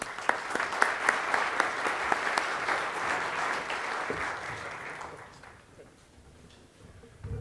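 An audience applauds to welcome James Lansberry at a 2015 annual conference, with steady clapping and a few sharp claps standing out, trailing off over the last couple of seconds into a quiet room.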